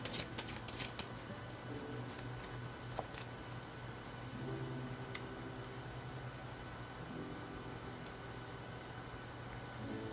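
Tarot cards shuffled and drawn, a soft papery riffle and flick in several quick bursts near the start, then quieter sliding and handling over a steady low hum.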